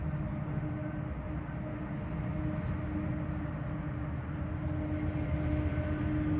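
An eastbound GO train running toward Union Station near High Park in Toronto, heard as a steady, continuous low rumble and roar that holds at moderate loudness throughout with no voices.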